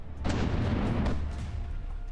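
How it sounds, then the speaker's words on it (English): An artillery volley explodes inside a battleship in From the Depths, a sudden muffled boom followed by a rumbling burst that fades over about a second, with a second fainter thump after. "there we got a little explosion, right? So it shot inside of there. We got another volley popping in there."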